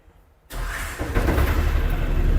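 A motorbike engine starts abruptly after a moment of quiet, catching and settling into a steady loud running noise.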